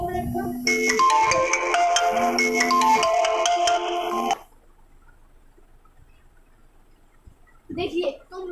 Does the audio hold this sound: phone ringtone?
yes